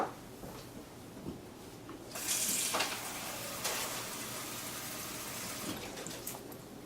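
Water pours into a measuring cup for cake batter as a soft, steady trickle and splash at close range, rising briefly midway and staying quiet throughout.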